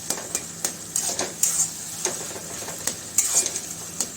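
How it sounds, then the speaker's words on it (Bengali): Eggplant for bhorta fries in a pan on raised heat under a steady, hissing sizzle, with repeated quick scrapes and clinks of a spatula stirring against the metal, close up and without talk. "এবার আমি বেগুনটা ঢেলে দিলাম"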